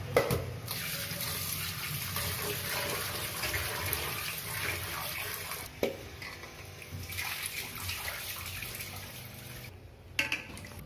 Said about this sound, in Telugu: ఒకసారి కడిగిన చేపల ముక్కల్లో కాస్తంత పసుపు కాస్తంత ఉప్పు వేసి బాగా కడగాలి